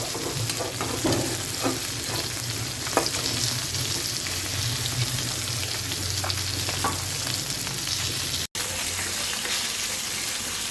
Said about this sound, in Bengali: মাছগুলো মনে হচ্ছে ভাজা হয়েই গিয়েছে একটু বেশি ভাজবো না